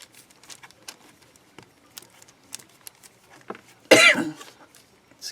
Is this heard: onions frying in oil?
no